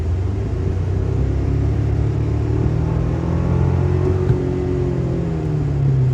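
A 2025 Toyota Tacoma TRD Off-Road's engine pulls steadily under acceleration, a continuous low rumble with rising tonal drone heard from inside the cabin, moderately loud and without speech.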